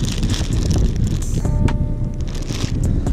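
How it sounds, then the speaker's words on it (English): Outdoor wind buffets a microphone on a back bay bank while fishing, a loud, continuous rumbling roar with gusty surges throughout. "Oh, this wind sucks."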